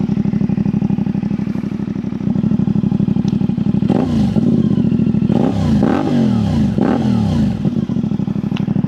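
A 450MT motorcycle with a loud exhaust pipe idles with a deep, steady thump, then blips the throttle in several sharp revs midway before settling back to idle, close and loud.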